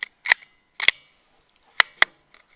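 Sharp cracks from a .22 LR rifle firing CCI subsonic 40-grain rounds, four distinct reports spaced unevenly across a couple of seconds, each short and snappy with a brief tail, close and fairly loud with quiet gaps between.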